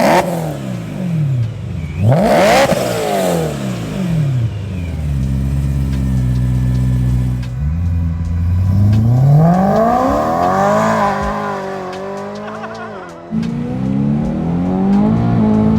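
A BMW M3 with the S65 V8 engine accelerating hard on a drive, revving up through rising and falling gear pulls with a loud, close engine note and shifts between them, alone without talk.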